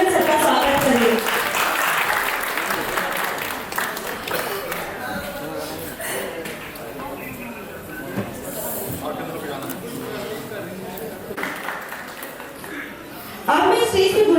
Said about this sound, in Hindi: कृपया तालियों की गड़गड़ाहट के साथ हमारे चेयरमैन सर का स्वागत करें।